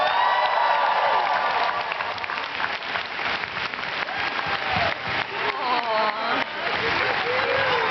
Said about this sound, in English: Let's cheer her on as she comes up.